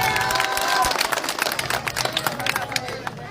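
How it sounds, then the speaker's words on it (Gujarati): A crowd at a public gathering claps in welcome for a local leader, a dense patter of hands that thins into scattered claps, with a voice speaking over the start. "બાલાભાઈને એકવાર ફરી જોરદાર તાળીઓથી બાલાભાઈને વધાવીએ"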